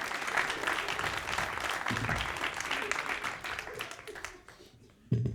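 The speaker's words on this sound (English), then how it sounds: "They'll give you a round of applause." A live magic show audience applauds as a volunteer comes up on stage: sustained crowd clapping, loud and full, that fades out toward the end before a brief thump.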